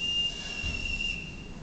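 A steady, high whistle blown to call people together, a single sustained piercing tone held for over a second at moderate distance, with no voices.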